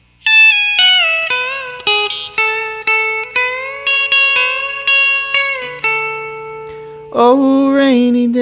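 Electric guitar with a B-bender playing a line, clean sustained notes with pitch bends rising into held tones, a steady melodic run alone, ending on a brighter strummed chord.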